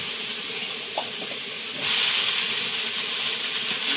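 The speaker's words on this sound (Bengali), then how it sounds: "এবারে লাল শাকটা এর মধ্যে দিয়ে দেবো" Red amaranth greens go into a hot pan of shrimp curry with a loud, continuous hiss that swells sharply about halfway through and keeps sizzling steadily.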